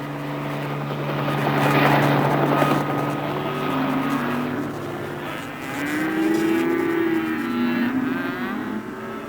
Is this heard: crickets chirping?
no